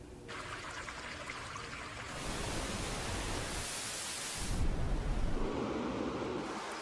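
Steady broadband white noise from an iPhone's built-in accessibility sound machine, holding constant and shifting slightly in tone partway through, with no voices.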